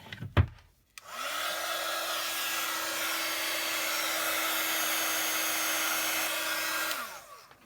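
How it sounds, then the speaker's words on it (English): A heat gun hums in a steady, even whine for about six seconds while heat embossing a thank-you card, starting after a brief knock and cutting off cleanly at the end. "Let's see what it's like when we heat emboss."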